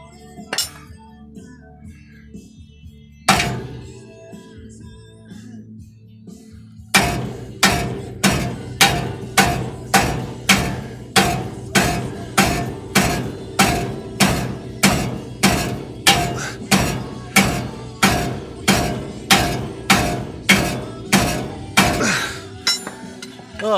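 Repeated loud metallic hammer whacks on a steel bracket during a Ford F150 drop bracket install: a couple of isolated strikes, then a long steady run of about thirty evenly spaced, ringing blows close by.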